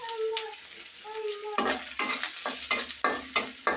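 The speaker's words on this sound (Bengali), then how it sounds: "সবজিটা আমি আগে তেলের মধ্যে ভাজা নিতেছি" Vegetables, aubergine and potato, frying in hot oil for a dried-fish dish, with a stirring spoon scraping the pan in repeated strokes over a steady close sizzle; quieter at first, then louder clattering stirs.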